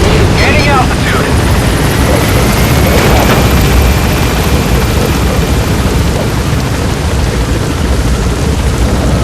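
A helicopter in Metal Gear Solid V: The Phantom Pain lifts off and gains altitude on an extraction run, giving a loud, steady rotor roar that fills the whole stretch with no clear gaps.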